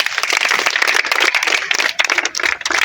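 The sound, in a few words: audience applauding at a tennis camp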